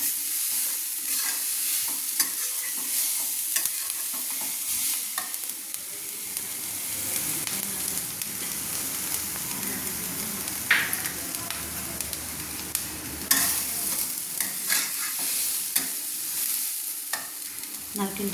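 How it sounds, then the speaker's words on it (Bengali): Grated coconut for a patishapta filling fries in a pan while a utensil stirs it, producing a steady sizzle broken by repeated scraping strokes and occasional clacks against the metal, continuous and close, with no speech. "আমি নারকেলটাকে চুড়ে ঢেলে দিলাম পুর করার জন্য। এবারে একটু নেড়ে নিলাম।"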